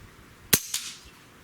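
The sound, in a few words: suppressed Hatsan Galatian air rifle shot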